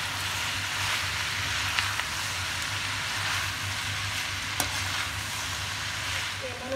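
Parmal sabzi with salt and spices being mixed in a hot pan, an even close sizzle with soft stirring scrapes and a couple of small clicks, no voices.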